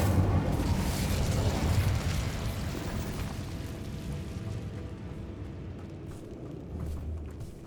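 An Incendio fire spell cast in the game Hogwarts Legacy, a loud whooshing, roaring burst of flame that swells at the start and slowly trails off, with a low rumble throughout.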